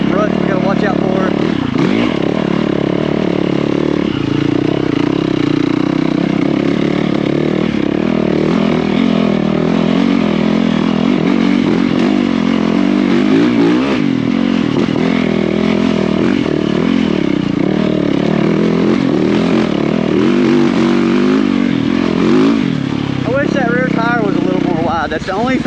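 A motocross dirt bike climbs a rocky, rutted trail uphill, its engine buzzing loudly and continuously close by with rising and falling revs, while a rider talks over it.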